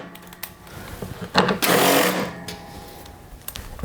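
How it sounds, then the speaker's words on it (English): Impact wrench backing out 3/8 bolts from the belt cover of a Toro Power Max OXE 826 snowblower: one loud, sustained burst of whirring and rattling hammering lasting about a second, then quieter clicks and handling noise. "I'll just remove them with my impact"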